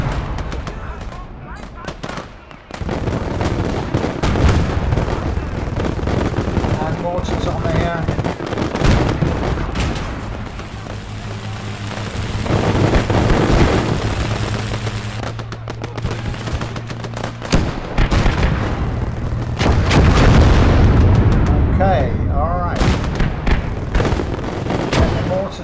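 Battle in the game Ham and Jam with mortar and gunfire: dense continuous rattling gunshots and heavy booms fill the whole stretch, loud and close, with voices talking underneath.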